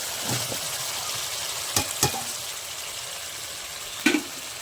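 Cut taro pieces drop into hot masala frying in oil for a fish curry, giving a steady close sizzle with a few sharp clatters and splashes as the pieces land.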